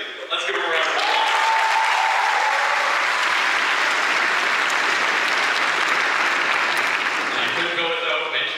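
Graduation ceremony audience breaks into loud, sustained applause that swells quickly and holds steady for several seconds, filling a large hall, with a voice briefly heard at the start.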